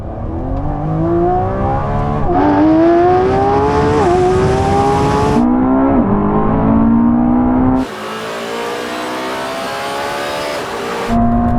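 A Lamborghini Revuelto and a Ferrari SF90 launch side by side in a half-mile drag race, engines roaring loud and close as they climb through repeated upshifts, each gear change dropping the pitch before it rises again.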